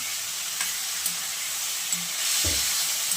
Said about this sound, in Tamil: தக்காளி எல்லாம் மொத்தமாக போட்டு நல்லா வணக்கி